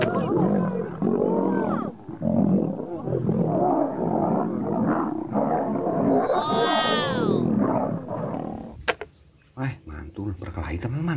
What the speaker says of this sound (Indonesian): Berkelahi, teman-teman, singanya.